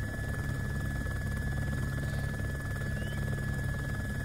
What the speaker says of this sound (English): I could get in the chopper